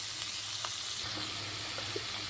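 Cauliflower frying in a pan: a steady, close crackling sizzle of hot oil throughout, with a few faint stirring clicks and no voices.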